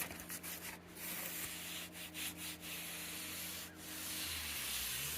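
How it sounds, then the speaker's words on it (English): Hand sanding a Mustang trunk lid with 400 grit sandpaper, a soft continuous rubbing hiss with brief pauses between strokes, close and fairly quiet. "I know they say you're not supposed to sand this way, but kind of a tight spot."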